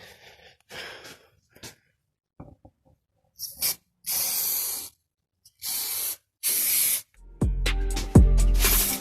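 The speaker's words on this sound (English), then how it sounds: "I'm gonna spray some glue over here now" Spray-on adhesive hissing from an aerosol can onto leather for wrapping a BMW E34 door card, in several short bursts of about a second each separated by pauses, close and loud, with handling noises at the end.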